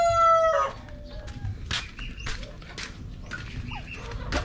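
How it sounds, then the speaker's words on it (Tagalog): Pet chickens at feeding time on a small farm, one rooster crowing loudly at the start followed by busy clucking and scattered bird calls, moderately close with constant outdoor background noise. "magpapakain na tayo ng ating mga alagang manok."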